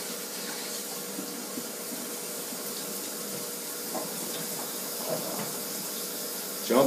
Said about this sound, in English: Are you running hot water or cold water?